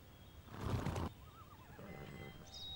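A horse neighs in the Bibi & Tina: New Adventures with Horses video game, a loud whinny burst followed by quieter wavering calls and soft background game sounds, with no talking.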